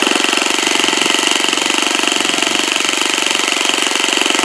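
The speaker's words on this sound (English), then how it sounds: "All right, there she is idling." An 1980s four-stroke nitro engine on an RC biplane idles loud and close, a fast, even buzzing chatter that holds steady throughout.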